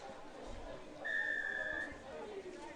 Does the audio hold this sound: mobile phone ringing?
no